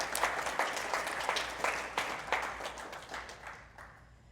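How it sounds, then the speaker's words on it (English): Audience applause following a technical presentation, a dense patter of many hands clapping at moderate distance that gradually thins and fades toward the end. "that deserves a second round of applause"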